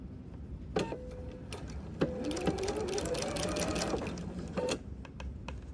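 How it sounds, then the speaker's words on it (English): Close sewing machine stitching diagonal seams to join quilt binding strips, with short whirring runs of rapid needle clatter between brief pauses and sharp clicks, no talk. "I'm going to sew that diagonal again"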